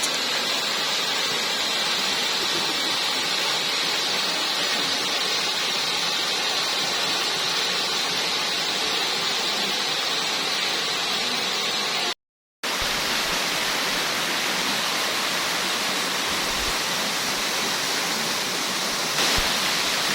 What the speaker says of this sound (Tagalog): Heto na at bumungad na ang ganda ng Baluarte Falls